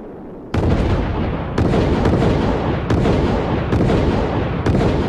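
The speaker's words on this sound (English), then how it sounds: "There's a film that shows this thing going bang, bang, bang, and up it goes a ways." Project Orion test vehicle driven upward by a series of explosions: sharp, loud blasts at roughly one-second intervals, each a broadband bang over a continuous roaring rumble, with no talk.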